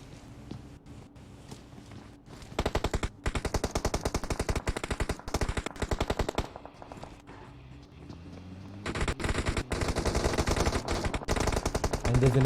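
Rapid automatic gunfire in a PUBG Mobile match, loud bursts of repeated shots broken by short pauses, then a longer sustained volley near the end, with faint commentary underneath.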